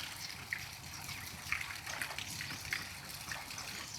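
Water runs steadily into an open well with fish, a soft continuous trickle and splash heard from nearby outdoors, with a few faint sharper splashes.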